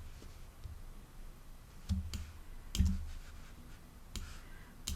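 Crisp mouse clicks in animation software, a few sharp isolated clicks at about two, three and four seconds over a low steady room hum, close and fairly quiet, with no talking.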